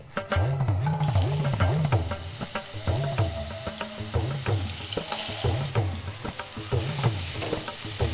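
Chopped eggplant fries in hot oil in a pan, a steady close sizzle with occasional stirring scrapes and clinks, no voices.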